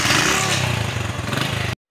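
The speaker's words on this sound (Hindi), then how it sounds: "अब्दुल्ला भी बाइक पे।" A motorcycle engine drones steadily and close by while riding, with a low rumbling tone and a slight uneven pulse, then cuts out abruptly near the end.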